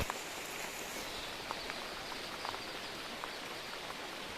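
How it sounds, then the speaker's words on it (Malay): Steady rain falling in a forest while camping, a soft continuous hiss with scattered faint drips and patters, no voices. "Hujan-hujan kita berada di hutan"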